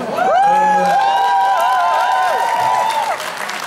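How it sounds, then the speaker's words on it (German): Loud audience applause and cheering at a dance show, a dense wash of clapping with whoops rising over it for several seconds before easing slightly near the end. "Also, herzlichen Applaus für Andrea und Michael Günther."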